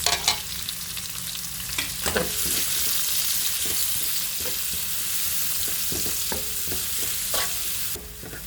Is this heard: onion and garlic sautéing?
yes